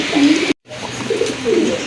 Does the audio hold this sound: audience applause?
no